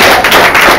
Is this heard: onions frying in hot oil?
no